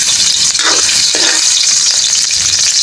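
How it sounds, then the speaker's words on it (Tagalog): Garlic sautéing in a hot pan at the start of cooking pork bas-oy: a loud, steady sizzle and crackle of frying oil, with a few soft stirring scrapes and no talking. "Magisa na po tayo. Bawang."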